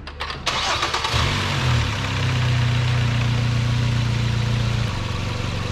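Van engine after an oil change, cranking over briefly and catching, then settling into a steady, close, loud idle with a low constant hum and no talking.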